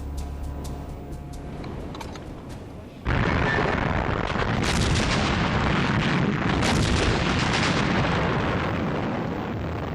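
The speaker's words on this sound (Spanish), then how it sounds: "La artillería británica aborta el asalto y los Panzer son frenados sin dificultad" British artillery firing on German Panzer tanks in a World War II battle: after a quieter opening, a sudden heavy blast gives way to sustained booming and rumbling barrage with repeated bursts, loud and dense throughout.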